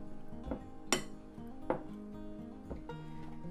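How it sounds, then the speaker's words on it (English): Metal fork scraping and tapping against a pastry cutter in a bowl of flour and butter for pie crust, a few sharp clinks spaced unevenly over quiet. "Use a fork to scrape the pastry cutter every once in a while."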